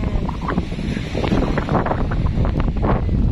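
Strong wind roars across the microphone in a continuous, gusty rush with no pauses.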